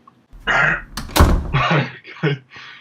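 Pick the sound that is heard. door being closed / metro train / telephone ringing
door being closed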